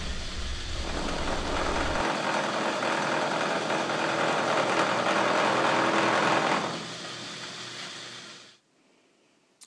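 A milling attachment running on a lathe, a steady mechanical whir and hum that rises, holds for several seconds, then winds down and stops near the end.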